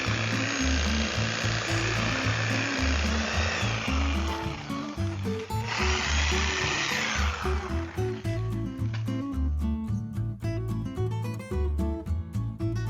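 Power saw fitted with a carbide blade cutting low through a shrub near the dirt, a steady loud motor whine with a rising cutting bite midway, then easing into lighter running.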